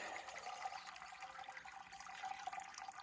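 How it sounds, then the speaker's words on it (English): Water runs steadily from a tap in a home kitchen during chicken butchering, a faint, even hiss of flow that holds constant for a few seconds with no talking. "Turn on your water. We're flowing."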